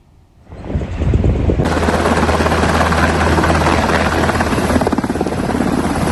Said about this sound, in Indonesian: Helikopter militer Israel mendarat di landasan helikopter rumah sakit untuk mengevakuasi tentaranya yang terluka